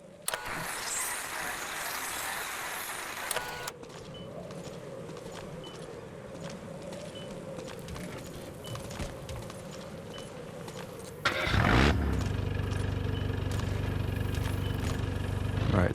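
In Metal Gear Solid V, outdoor ambience gives way to a military vehicle's engine suddenly starting up and rumbling loudly as it pulls away.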